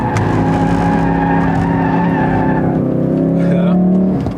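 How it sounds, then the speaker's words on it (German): Loud, close tire squeal as a 2016 Ford Focus RS with 350 PS drifts, the skid holding for about four seconds over the engine drone before fading out. "Ja, so hier den ersten Drift."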